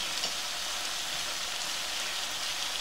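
Chili powder hits ginger and garlic frying in a pan for a chicken roast, giving a dense, even sizzle that holds steady and close throughout.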